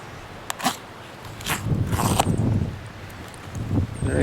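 SOG Creed knife sawing and ripping through a fire truck water hose, with a series of rough, tearing rasps and scrapes at close range, a sharp snap near the start and no talking.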